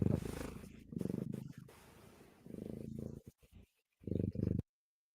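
Pet cat purring close up in soft rhythmic bursts, several purring phrases broken by short pauses and a quiet gap near the end.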